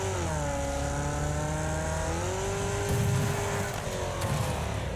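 A car engine revs loud and close in the racing game Wreckfest, its steady rising and falling tones carrying for the whole stretch with some rumbling crashes behind.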